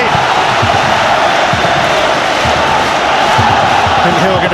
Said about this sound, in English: And Hill getting the crowd going, not that I think they needed that too much.